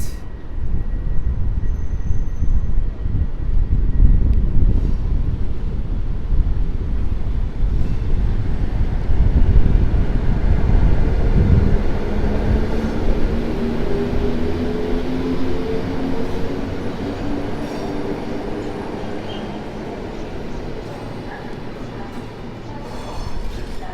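A PKP Intercity train led by an EP07 locomotive departs Warszawa Zachodnia station, with a heavy low rumble and wind buffeting on the mic, then rising electric motor tones as the train pulls away and fades.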